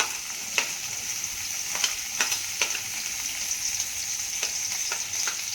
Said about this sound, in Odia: ତେଲ ତାତିଲେ ପିଆଜ ପଡ଼ିବ